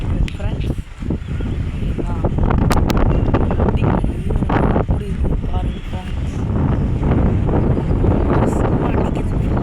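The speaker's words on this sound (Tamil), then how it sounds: "அடிக்குது ஃப்ரெண்ட்ஸ் காற்று" Strong gusts buffet the microphone in a village during the windy season, a rough, fluctuating roar with rustling, while someone talks over it.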